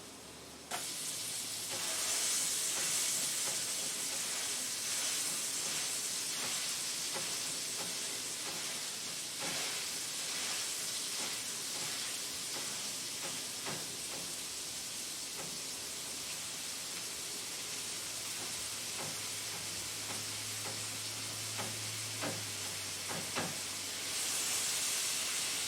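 Sausage and eggs sizzle on a grill in a steady, continuous broadband hiss that holds evenly throughout, with faint scrapes and a low hum surfacing near the end.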